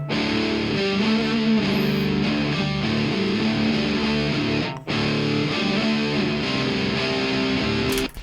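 Heavily distorted electric guitar for doom rock metal, two takes layered into a thick, sustained, droning wall of sound with a brief gap midway, loud and alone.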